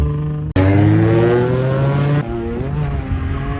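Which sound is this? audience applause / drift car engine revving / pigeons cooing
drift car engine revving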